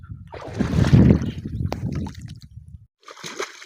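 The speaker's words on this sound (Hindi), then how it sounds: "ये देखो ये पानी आ रहा है" Water gushes from a pipe into a field on a village farm in Sindh, a steady rushing and sloshing flow with a generator running, close and fairly loud, then a brief pause before the splashing resumes.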